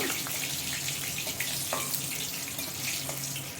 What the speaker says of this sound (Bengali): ছোট ছোট দুটো তেজপাতা নিয়েছি আর নিয়েছি এখানে তিনটে শুকনো লঙ্কা দিয়ে একটু ভালো করে ভেজে নিব